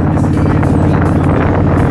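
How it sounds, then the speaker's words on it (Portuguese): Heavy wind roars continuously into the microphone while riding a Honda Shadow 750 motorcycle fitted with T-bar handlebars, a loud, dense buffeting rumble with engine drone underneath and no talking. "eu acho que agora vai pegar um pouquinho de vento para vocês."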